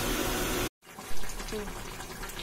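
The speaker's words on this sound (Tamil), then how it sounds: "தண்ணியை நான் கொஞ்சம் ஆட் பண்ணிக்கிறேன்." Water gushes steadily, poured close by into a cooking pot of vendakka kuzhambu, then cuts off abruptly, followed by softer splashing and faint speech.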